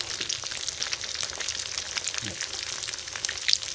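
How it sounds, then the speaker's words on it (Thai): Pork sausage deep-frying a second time in hot oil until crisp, a steady dense sizzle and crackle with small pops, close and fairly quiet, no voices. "เรามาทอดอีกครั้งให้มันกรอบครับ"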